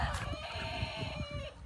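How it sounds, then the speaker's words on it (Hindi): Chickens on an organic poultry farm cluck and call steadily over a low, rumbling background of farm noise, with a drawn-out tonal call running through most of the moment. "ये भी नया चूज़ा है"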